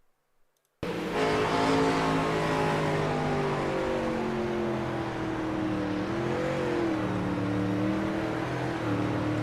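A race car on the Port Royal circuit drones loudly from an onboard view, its engine note holding steady and then wavering as it surges, following a sudden start after a brief silence.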